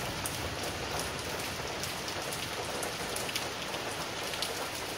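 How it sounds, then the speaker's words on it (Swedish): Heavy rain pours steadily on a Sunday morning in Vällingby, Sweden, a dense, even hiss of drops hitting surfaces, constant and close with no voices. "det var länge sedan det regnade så här häftigt"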